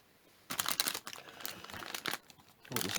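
Paper backing peeled from stickers and crumpled while an Easter bonnet is decorated, close and quiet, a few crinkly bursts of rustling with short pauses between them.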